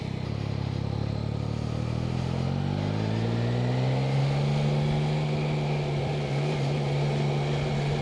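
Engine drone of a 2025 Yamaha Tracer 9 GT motorcycle riding through town, a steady close rumble that rises in pitch as it accelerates and then holds an even tone, with wind and road noise throughout.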